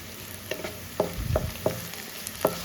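Chicken liver frying toward a brown shade in a pan, with a steady hiss broken by several sharp scraping knocks of a spoon at an uneven pace, close and fairly loud, no speech.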